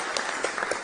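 Audience applauding Trump: a brief, steady wash of clapping from a crowd, dense and even, with no voices heard.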